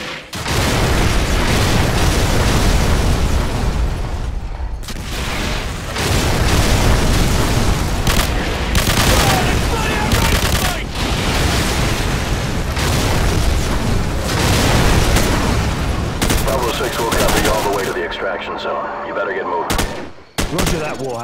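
Danger-close artillery fire mission in Call of Duty 4: Modern Warfare, with heavy, loud explosions and gunfire booming almost continuously, a brief lull midway, then renewed blasts before the barrage fades into quieter rumbles at the end.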